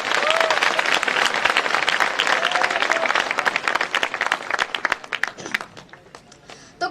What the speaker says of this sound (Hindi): तो एक बार तालियां बजाकर स्वागत करें।